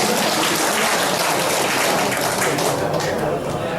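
Audience at a Vietnamese veterans' association anniversary meeting applauding, a thick, continuous patter of many clapping hands filling the hall, loud and even throughout.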